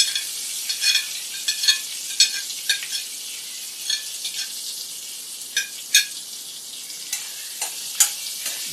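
Onions sizzle and fry in a hot pan with ginger, garlic, chillies and curry leaves for Punjabi-style moong dal, with a steady crackle broken by repeated sharp scrapes and clinks of stirring, close and fairly loud.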